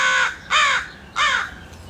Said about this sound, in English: And we're hanging out with some birds.